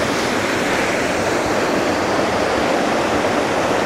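A proper waterfall in Northumberland pours with a steady, dense roar of rushing water, close and loud, with no voices.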